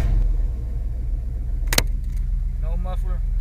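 A Ford F-150 idles loudly in a parked spot, its exhaust open with the muffler and catalytic converter gone, giving a steady deep rumble. A sharp click-like burst sounds near the middle, and a person talks over the engine.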